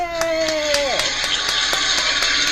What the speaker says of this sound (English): You know that you deserve a clap.